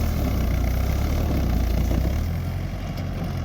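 A tractor engine runs steadily while spreading manure evenly across a field being prepared for papaya planting, a continuous low mechanical drone close by that eases slightly toward the end.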